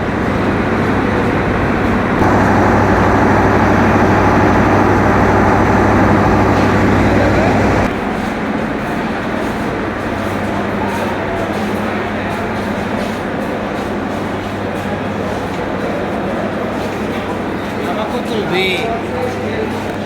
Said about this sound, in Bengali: এই ট্রেনটি এইমাত্র রংপুর রেলওয়ে স্টেশনে এসে পৌঁছালো